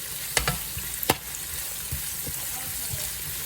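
Shrimp and onion fry in a pan, a continuous close sizzle punctuated by a few sharp clacks and scrapes of a utensil stirring.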